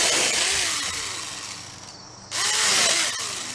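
A pruning saw cuts through a log outdoors, a steady buzzing motor rasp in two bursts with a brief dip between them, fairly quiet and close, with no talk.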